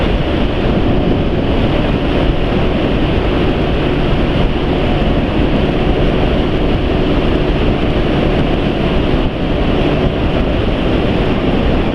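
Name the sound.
strong wind noise while riding a Yamaha NMAX scooter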